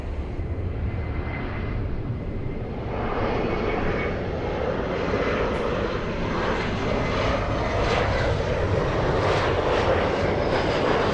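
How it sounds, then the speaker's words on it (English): An Air France airliner taxis toward the runway for takeoff at LAX, its jet engines giving a steady, loud, continuous roar that swells slightly over the span with no talking. "We have Air France. Heading to the runway for takeoff."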